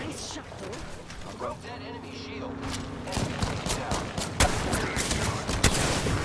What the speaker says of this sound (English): Now the team behind us is firing, bro?